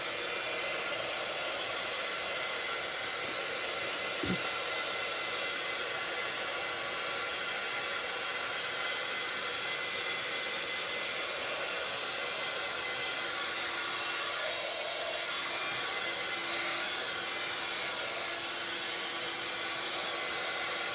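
A hair dryer blowing steadily on white craft ink during card making, a loud continuous hiss and whir that holds unbroken throughout, close to the microphone.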